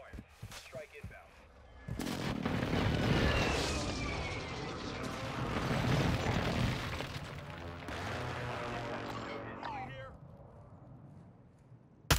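Airstrike explosions in Call of Duty Warzone 2.0, a long rumbling barrage of heavy booms and crashes rolling on for about ten seconds, loud and dense, dying down toward the end with a sharp hit at the close.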